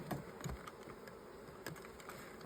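Honeybees in a queenless hive hum softly and steadily, with a few small knocks and scrapes close by over the low, even drone, and no one speaking.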